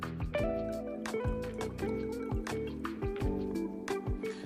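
Hardy Legend 1863 cognac glugs from the bottle into a glass in a steady rhythmic series of liquid gulps, close and clear with no talk.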